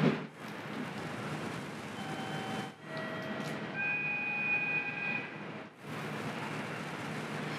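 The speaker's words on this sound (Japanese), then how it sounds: "もうすでに米原に向かう普通列車が大垣駅の1番ホームに停車中です。" A quiet station ambience around a local train stopped at platform 1 of Ogaki Station, Japan, with a soft steady hum and faint tonal whines, broken briefly by a few short dips.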